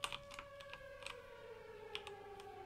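Faint sustained siren tones wail and slowly sag in pitch in the horror game Siren Head: The Arrival, under sharp keyboard clicks scattered throughout.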